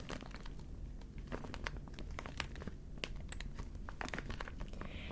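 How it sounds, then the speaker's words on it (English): Crinkling waterproof plastic bag rustles in close, irregular bursts of crackles and crunches, continuing steadily with no voices. "It's in this convenient plastic bag."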